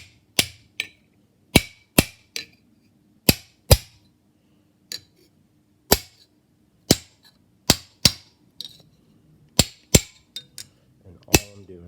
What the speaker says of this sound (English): hammer and another hammer, and I'm going to direct my strikes with that.